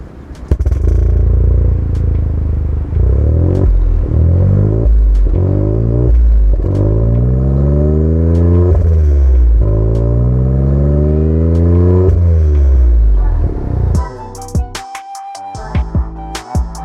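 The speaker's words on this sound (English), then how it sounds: "the exhaust themselves, they have valves operated by this Bluetooth remote, so you can turn on for a raspier, nicer sound" Modified Proton X50 SUV with a valved aftermarket exhaust revving repeatedly, loud and close: about six rising-and-falling throttle blips, a sustained climb and hold near the end, then the engine drops back to a rough, burbling idle.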